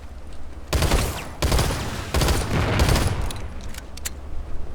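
Automatic pistol fire from the Terran Republic in Planetside 2 rattles out in three or four rapid bursts of close, loud shots separated by short pauses, with no talking.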